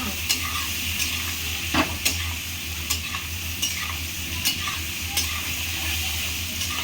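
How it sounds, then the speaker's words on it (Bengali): Pieces of pointed gourd (potol) fry with turmeric in a pan and get stirred, giving a steady close sizzle with sharp periodic clicks of the spatula against the pan roughly every second, with no talk. "পটলগুলো আমি লাল লাল করে ভেজে নেবো"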